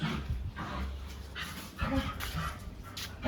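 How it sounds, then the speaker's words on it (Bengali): Two dogs at a home in South Andaman make soft whimpers, yips and panting close by, broken and uneven, with a faint background voice. "তো এই দেখুন দুই ডগি"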